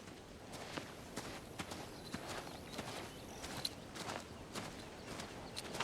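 Horses' hooves clop on the ground in an uneven, repeated rhythm as stolen horses are led away, moderately close and fairly quiet, with no talking.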